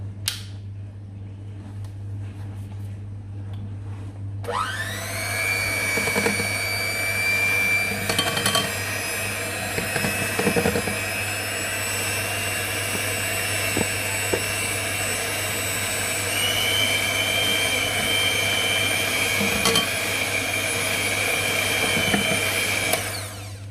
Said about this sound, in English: You can use an electrical whisk or a normal mixing whisk, but I think an electrical whisk is faster and better.